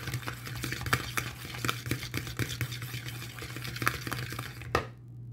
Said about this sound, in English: Continue to mix.